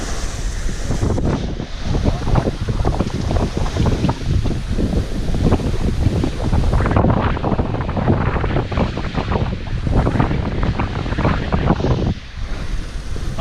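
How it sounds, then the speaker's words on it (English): Squall winds hit a sailboat sailing hard on the breeze offshore between Bermuda and the Chesapeake Bay, with loud gusts pounding the microphone amid sloshing water, continuous and close, and no one speaks. "Been hitting squall line about every 10 miles."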